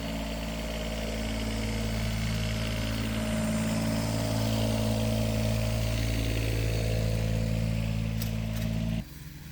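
A John Deere 332 lawn tractor runs with a Cyclone leaf vacuum attached, a loud steady engine drone with a constant blower roar that drops off abruptly near the end.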